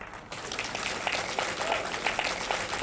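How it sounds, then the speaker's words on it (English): Audience applause for the winners of the Innovation Prize for Africa at an awards event, a broad steady patter of many hands clapping throughout, with faint voices mixed in under it. "A round of applause to them."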